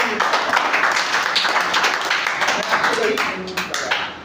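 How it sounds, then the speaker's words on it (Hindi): An audience at a talk on keeping youth away from addiction breaks into applause, a dense, steady patter of many hands clapping that fades slightly toward the end. "इनके लिए जोरदार ताली।"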